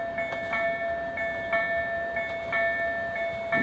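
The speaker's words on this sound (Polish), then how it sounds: "Już tutaj nadciąga z Grodziska Mazowieckiego skład do Warszawy Wschodniej." A commuter train runs from Grodzisk Mazowiecki toward Warszawa Wschodnia and comes into the Warszawa Reduta Ordona station, heard close by as a sustained tonal whine with rhythmic clacks over steady rumble, with no talking.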